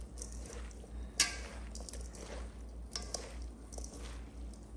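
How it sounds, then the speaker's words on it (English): Curtido vegetables and spices with peppercorns being mixed together by hand, giving soft, quiet squishing and rustling with a few sharper clinks and taps, fairly close with no talking. "All right, now we just need to mix all that together really well"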